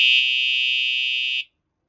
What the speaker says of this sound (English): they're not bad alarms. They sound aggressive.